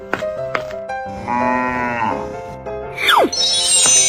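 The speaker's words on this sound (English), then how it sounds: "cow," A cow moos in a long, loud, drawn-out call lasting about two seconds, with a few brief sounds before it and a bright rising sweep after.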